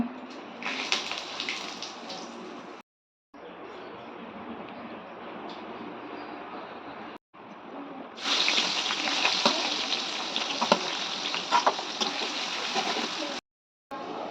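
Whole spices tempering in hot oil just after frying potatoes for a Bengali meat curry: a loud, steady hiss that jumps louder midway, broken by a few brief cuts.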